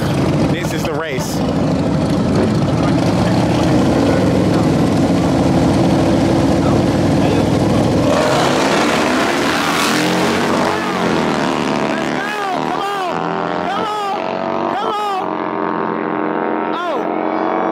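Harley motorcycles drag racing at the Soul Brothers annual event in Arkansas, roaring loudly and close with rising, shifting engine tones, then fading revs, while a crowd shouts and talks throughout.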